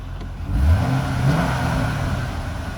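A 2008 Corvette convertible, 3LT with a six-speed manual, revs its engine nearby, rising in a swelling roar that settles into a steady, throaty idle-like rumble.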